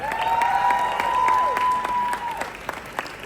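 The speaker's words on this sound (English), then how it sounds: "So a very big round of applause to both the families." Guests at a sangeet Indian wedding celebration clap for both families, steady applause with some cheering, and a long sustained tonal whoop over the clapping.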